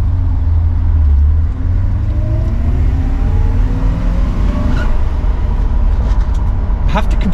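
A Porsche 928 ute pulls away in first gear, its engine note rising steadily as it accelerates, loud and close with a low rumble throughout.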